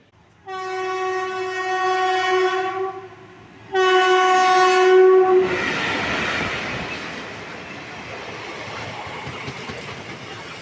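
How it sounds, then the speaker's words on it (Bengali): A Howrah–Azimganj passenger train pulls into Kuntia station, sounding two loud, sustained horn blasts close by, then rolling into a steady rumble and clatter of wheels and carriages. "হাওড়া আজিমগঞ্জ প্যাসেঞ্জার বা এক্সপ্রেস ট্রেন যেটা এই স্টেশনে কুন্তিয়া স্টেশনে ঢুকছে"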